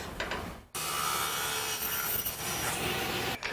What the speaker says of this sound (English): I'm going to cut one miter for each piece